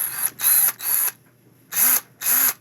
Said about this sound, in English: I think my drill has been in reverse the whole time.